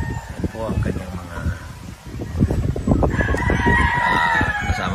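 Chickens, young pullets and a rooster on a Philippine farm cluck and crow close by, the rooster's crow rising clearly near the end, with a person talking over the birds.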